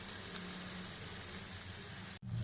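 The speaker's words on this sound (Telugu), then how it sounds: "లైట్ గోల్డెన్ కలర్ వచ్చినంత వరకు ఇలా కలుపుకుంటూ ఫ్రై చేయాలండి" Onions and green chillies fry in a pan with a steady, close sizzle and crackle that runs unbroken for over two seconds, dipping only for a brief instant near the end. No one speaks.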